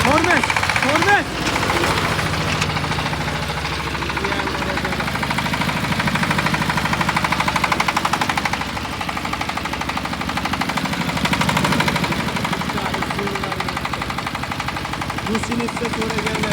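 A 1105 tractor's diesel engine runs at idle, a continuous rough knocking chug with rapid rhythmic pulses, close and moderately loud throughout, with some voices around it.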